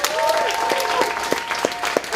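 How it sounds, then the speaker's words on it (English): A boxing club audience breaks into steady applause at its second annual match, a dense continuous patter of many hands with a voice audible over it. "So round of applause"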